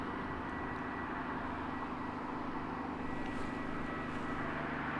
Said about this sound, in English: Emirates 412 lined up in final approach